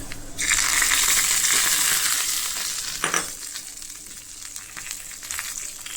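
Spices for tempering tomato pepper rasam hit hot oil with a loud, bright sizzle that gradually settles into a softer crackle, with a brief stir or clink midway.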